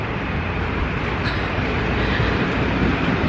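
A train rumbles along a track right beside a picnic spot that sits between the rails and a highway, a loud, steady low roar that stays constant throughout without any voices.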